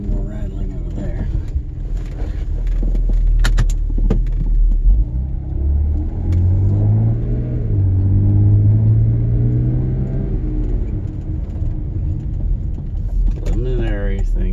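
A car on a test drive with the rear cover left open, its engine rumbling steadily and rising as it accelerates, with road noise and faint rattles throughout, close and fairly loud.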